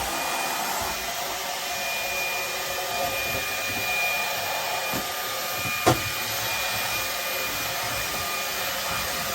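A Ryobi One+ Jobsite cordless hand vacuum runs steadily inside an RV, giving a continuous whirring motor drone with a thin high whine and one brief knock partway through, close to the microphone.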